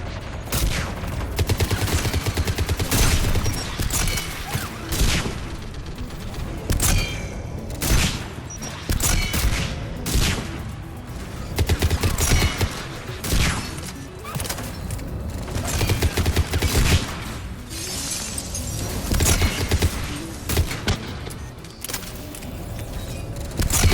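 Sustained turret gunfire in the video game Mass Effect 3, with loud, dense bursts of automatic shots and booms that continue without letup for over twenty seconds, close and heavy, with no clear talking.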